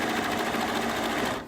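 A sewing machine runs a continuous burst of baste stitches through layers of soft minky quilt fabric, a fast, even mechanical whir that stops at the end.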